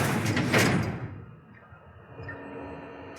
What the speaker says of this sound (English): Let's close the door.